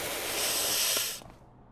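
Pressure washer spraying in a video game, a bright continuous hiss that holds steady, then cuts off abruptly, leaving faint background noise.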